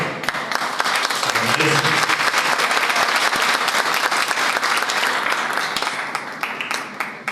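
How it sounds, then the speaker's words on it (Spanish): Audience at a history congress applauds, a dense burst of clapping from many hands swelling quickly and holding steady for several seconds before tapering slightly at the end. "Vamos a brindarle un aplauso de nuevo."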